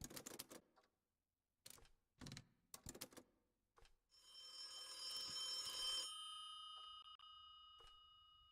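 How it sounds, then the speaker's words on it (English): An old telephone bell rings unanswered, a bright sustained ring of about two seconds followed by a few fading dings, after a burst of sharp typewriter-like clacking. "Harvey Miller, do you ever answer your phone?"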